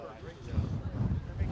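Wind buffets the microphone in low, uneven rumbling gusts, steady and close, with no clear voices.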